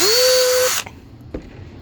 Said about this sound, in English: I stuck it in the chuck of my drill.